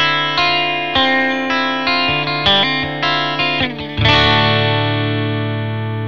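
A clean, bright electric guitar through a HeadRush pedalboard with a single-speaker cabinet simulation plays a sequence of ringing notes and chords, ending on a sustained strummed chord that rings out.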